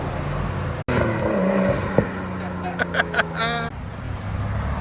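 A 1992 Nissan Skyline R32 with a resonator delete exhaust rumbles and revs loudly, with sharp throttle blips and rising engine notes, and voices talking over it.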